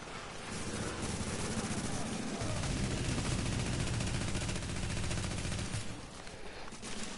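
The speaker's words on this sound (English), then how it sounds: "AI's in here, shooting us." Sustained automatic gunfire from AI enemies in The Division video game, a dense rapid rattle running nearly the whole clip and fading near the end, with faint voices mixed in.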